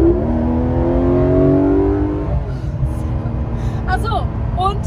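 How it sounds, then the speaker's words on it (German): Porsche 911 GT3 RS without a particulate filter, its engine revving loud and close with a rising, then falling tone, settling to a rough idle, while someone speaks over the engine noise. "der darf kein OPF haben, damit der einfach noch so geil klingt"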